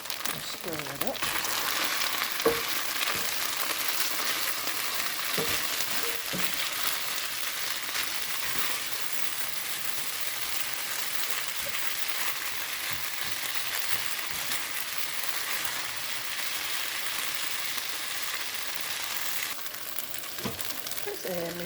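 Rice noodles with leftover pho soup and napa cabbage stir-fry in a pan, giving a loud, steady sizzle with scattered clicks of stirring throughout.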